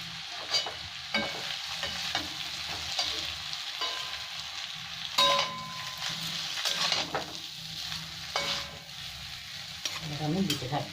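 Vegetables and street-style chowmein fry in hot oil, a continuous close sizzle broken by repeated scraping and clinking as the pan is stirred, with no talking.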